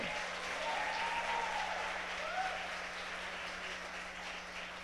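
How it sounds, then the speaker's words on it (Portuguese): Steady applause from a church congregation, continuous and fairly even throughout, with a faint constant hum underneath. "Vamos aplaudir ao Senhor."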